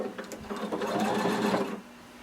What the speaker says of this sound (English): we're going to sew across the entire back